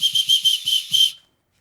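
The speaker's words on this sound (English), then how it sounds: "they actually have a whistle." Safety whistle clipped to the strap of an f-stop Tilopa camera bag, blown in six quick, loud, shrill chirps in steady succession before cutting off to silence.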